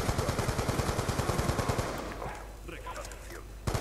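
Rapid automatic gunfire from the Black Ops 2 video game on the Nuketown map, a fast regular burst of shots lasting about two seconds, then quieter game ambience and a final sharp report.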